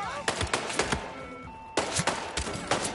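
Gunfire in the video game Hitman VR, several sharp shots in an irregular sequence, fairly close, with a short pause between two bursts.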